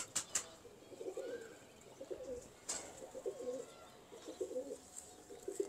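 Pigeons kept in cages coo softly in repeated low, throaty bursts at an even rhythm. A few sharp clicks and light rustles come through in the background.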